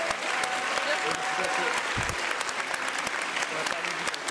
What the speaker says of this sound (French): j'aimerais qu'on les applaudisse déjà tous bien fort.